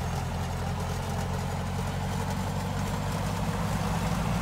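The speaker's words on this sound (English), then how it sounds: "Engine sounds are interesting." A de Havilland DH82 Tiger Moth biplane engine in Microsoft Flight Simulator running up to about 1600 RPM, a steady raspy low drone with constant loudness throughout and no voices.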